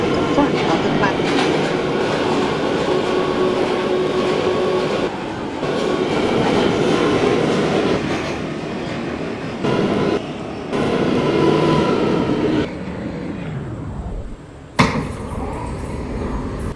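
An R179 C local subway train runs along its route, a steady loud rumble with wheel clatter and shifting track noise throughout, briefly changing near the end.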